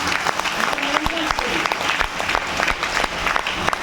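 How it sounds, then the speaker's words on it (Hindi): Loud, continuous applause from a large audience at a motivational success-story event, dense and steady throughout with scattered claps standing out. "जोरदार तालियां"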